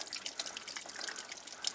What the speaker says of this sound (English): That's our water leak right there.